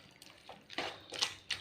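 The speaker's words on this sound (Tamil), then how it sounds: "இதில் கொஞ்சம் லேசாக கொஞ்சம் தண்ணி சேர்த்துக்கிறலாம்" Water poured into bitter gourd gravy in a pan gives a few short, faint splashes and trickles, about four soft bursts in quick, uneven succession, close to the microphone with no voices.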